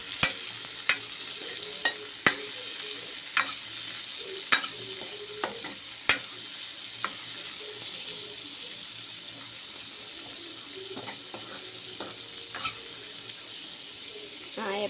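Tomatoes sautéing with a little salt in a pan for a Tamil home-cooked lunch, giving a steady sizzle with regular scraping taps of a spoon as they are stirred, close and continuous.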